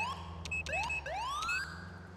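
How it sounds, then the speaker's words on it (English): Police car siren in the GTA 4 video game with the LCPDFR mod: a few short rising whooping sweeps in quick succession, fairly close, over a steady low engine drone, with no talking. "It's funny how I can hear your siren."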